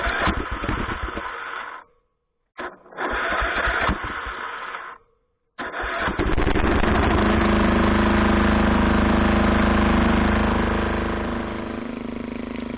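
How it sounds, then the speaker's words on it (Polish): A cogenerator engine on an air test cranks in two short bursts with brief silences, then starts and settles into a loud, steady idle that continues to the end. "No to odpalam silnik."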